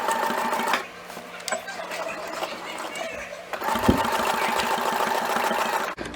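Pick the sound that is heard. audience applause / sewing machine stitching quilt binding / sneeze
sewing machine stitching quilt binding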